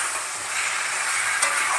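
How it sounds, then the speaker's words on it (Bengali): Fried prawns sauté in a spiced mixture in a pan, producing a steady, fairly loud hiss of sizzling oil with a faint stir, heard without voices. "তো ভালো করে কষিয়ে এর মধ্যে ভাজা চিংড়িগুলো দিয়ে দেবো।"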